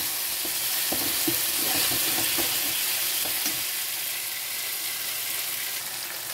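Green and red chillies fry in a pan for a paneer do pyaza, giving a steady close sizzle with scattered spatula scrapes and stirring clicks throughout, no voices.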